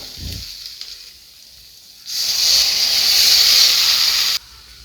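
Water poured into a hot pan of fried onions and spices hisses and steams loudly for about two seconds, then cuts off, after a faint clink and quiet background.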